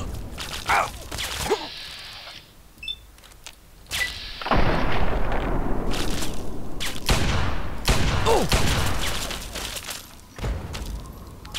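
Gunfire and rocket launcher blasts from the video game Fallout 3: sharp shots and heavy booming bursts in irregular clusters, loud and close, with rumbling decay between them.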